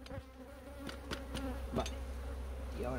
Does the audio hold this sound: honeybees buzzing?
yes